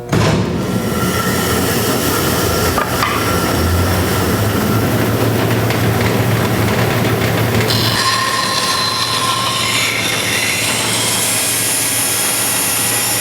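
A band saw's loud, steady mechanical roar with a high straining whine as the blade labors under load, shifting and rising partway through, continuous with no talking.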